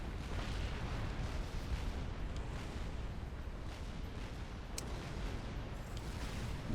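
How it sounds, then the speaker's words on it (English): Continuous rumbling artillery barrages in the real-time strategy game Supreme Commander: Forged Alliance, with a Fat Boy experimental unit under fire; a dense, steady wash of distant booms and bursts with no pauses. "the Fat Boy is going to have to start taking artillery fire before it can shoot back"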